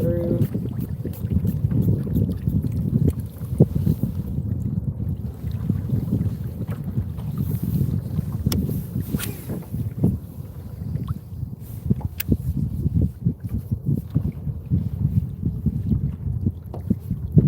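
A small boat idles slowly through marsh, its motor a low steady rumble beneath wind buffeting the microphone, with someone speaking now and then.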